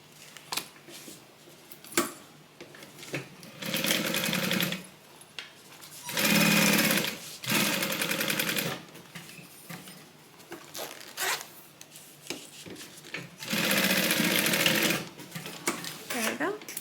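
A sewing machine stitches lining pieces of a Bible cover together in several short, fast bursts of whirring, with pauses between them and soft handling noises and a voice speaking in the gaps.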